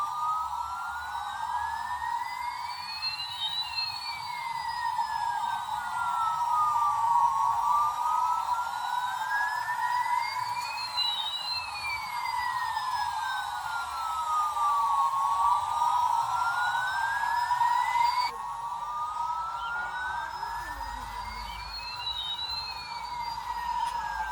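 A switched-on toy gear airplane with lights plays a continuous electronic tune, loud and close, its sweeping siren-like tones gliding up and down in repeating arcs with no talk over it.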